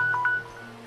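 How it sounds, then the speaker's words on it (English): A phone alarm chirps in short electronic beeps, a few quick tones scattered over a second, fairly faint over a low background hum. "Oh, that's my alarm."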